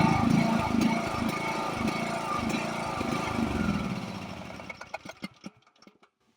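A farm buggy's small engine runs after cranking, chugging with a rough, steady lawnmower-like drone that fades and sputters out into a few last knocks before stopping.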